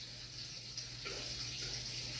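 A toilet flushes in a bathroom during cleaning, giving a steady, close rush of running water that holds for the whole stretch with no voices.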